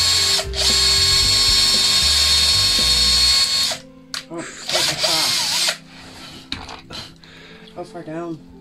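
Power drill boring a tap hole into a maple tree trunk outdoors, a loud steady whine for about four seconds, then stopping, followed by shorter bursts and scraping with people talking nearby.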